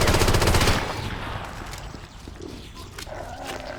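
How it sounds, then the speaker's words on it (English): A subcompact SMG sprays a rapid burst in Halo CE, loud stuttering automatic fire at the start fading into rumbling game noise and scattered faint thumps afterward. "Fear my subcompact SMG designed to pierce armor, unarmored fleshy foes."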